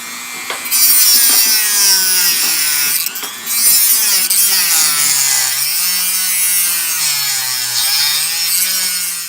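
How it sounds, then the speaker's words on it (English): Dremel rotary tool grinding and shaping a part for an American Flyer Model 312 model train, a high, steady whine that wavers in pitch as it bites, running continuously with a brief pause partway through. "I'm going to start to shape this just a little bit with the Dremel tool"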